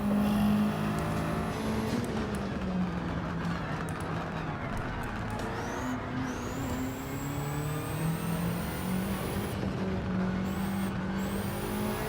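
Lancia Delta HF Integrale rally car in Gran Turismo 7 driving steadily, its engine droning at a constant pitch that rises and falls with gear changes, with a few upward sweeps of revving throughout.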